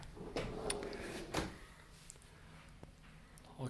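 A few soft wooden knocks and slides, like a drawer being pushed shut and opened, close by in a quiet hotel room.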